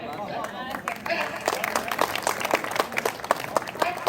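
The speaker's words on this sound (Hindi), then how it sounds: "अंजना जी के लिए जितनी तालियां हुई थी उतनी तालियां आई" An audience at an International Mother Language Day celebration claps steadily, a moderately distant, irregular patter of many hands that builds slightly, with faint crowd murmur underneath.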